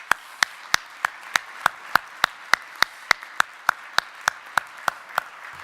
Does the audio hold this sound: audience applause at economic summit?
yes